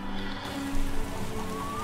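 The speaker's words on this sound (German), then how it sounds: "und es regnet natürlich," Steady rain falls in the video game The Witcher Enhanced Edition, a dense, even hiss of drops on surfaces with faint tonal game sounds underneath and no voices.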